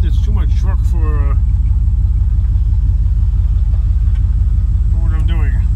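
Heavy engine of a 10-wheel truck idles with a deep, steady pulsing rumble, close and loud, while someone talks over it at the start and again near the end.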